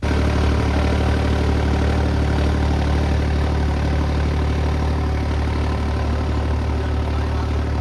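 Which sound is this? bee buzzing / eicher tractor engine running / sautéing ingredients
eicher tractor engine running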